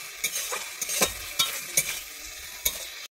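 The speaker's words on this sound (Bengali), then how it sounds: "দিয়ে আমি এবারে ভালোভাবে টমেটোটাকে ভেজে নিচ্ছি।" Tomato frying in hot oil in a pan, sizzling steadily while a spoon stirs and scrapes against the metal in quick, irregular strokes, close and fairly loud, with no voices.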